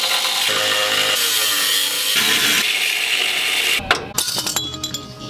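A power cutter slices through a metal skid plate on an off-road build to clear the front drive shaft, giving a loud continuous grinding buzz that breaks into choppy bursts and clinks near the end.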